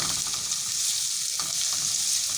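A spoon stirs chicken and vegetable roll filling in a hot pan, with a continuous close sizzle and soft scraping throughout.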